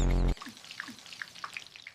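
Faint crackling and popping, like food sizzling in a pan, follows a brief loud tone at the start.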